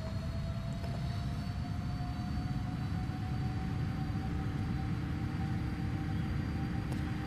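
A Boeing 777-200 makes its takeoff roll in Flight Simulator X, with a steady, loud rumble of engines and runway noise that holds throughout and no voices.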